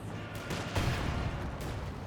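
Assault grenades bursting in the Company of Heroes 2 strategy game, a dense rumble of blasts and crackling fire with a heavier thump near the middle, no voices over it.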